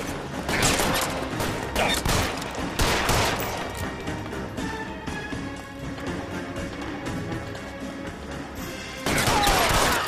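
Gunfire in L.A. Noire during a rooftop chase, several loud, close shot bursts early on, a quieter stretch of mechanical clatter and ambience in the middle, then another sharp volley near the end.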